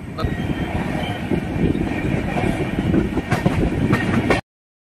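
A passenger train on the Darbhanga to Kolkata route rumbles along with steady wheel and carriage noise heard from inside, loud and continuous, with a voice talking over it.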